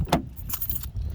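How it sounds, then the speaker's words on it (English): A key turns in the door lock of a FIAT 500 1.4 Pop: keys jingle with a sharp close metallic click, then a few lighter rattles and clicks follow. "And you could lock it with the key too"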